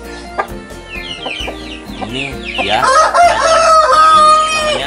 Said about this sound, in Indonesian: Ini ayam pama.